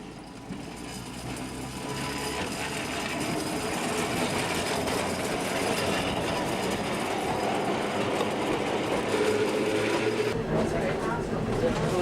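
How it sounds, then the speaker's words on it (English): Inside a Wellington tram car, a Fiducia Type 239, riding the rails: a steady rumbling roll with rhythmic wheel clatter and occasional squeal, building slightly, with faint voices of passengers mixed in. "take a tram journey down to the beach and back again to experience what riding in a Wellington tram car is like"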